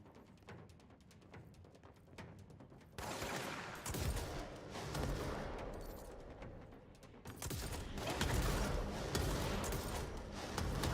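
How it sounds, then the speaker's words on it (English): Bursts of gunfire in the game Control: sparse sharp shots at first, then dense sustained volleys of rapid fire that swell loud, ease off and surge again. "someone is shooting at me"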